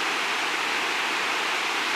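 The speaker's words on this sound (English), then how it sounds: "Our next destination was an exceptional waterfall." Waterfall in Slovenia streaming down a mossy hillside into a pool, a steady, dense rushing roar of falling water with no breaks or other sounds.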